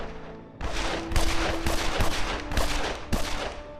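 Gunfire in the Evil Genius strategy game, a dense stretch of rapid overlapping shots and bursts, loud and continuous for several seconds with no voices.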